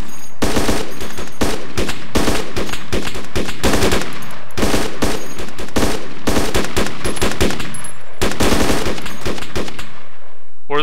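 Machine guns fire in a game attack on Kozlovka. Rapid bursts come loud and close, nearly continuous, with short gaps, then stop abruptly before the end.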